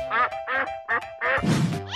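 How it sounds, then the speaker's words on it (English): A duck quacks five times in a quick rhythm, close and loud, the last call rougher and more drawn out. "Duck."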